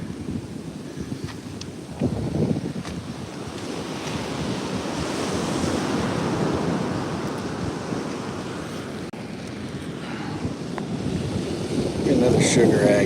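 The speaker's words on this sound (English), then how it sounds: "Here comes the water." Ocean waves wash onto a beach in a steady, loud roar of surf, swelling and breaking continuously with wind buffeting the microphone.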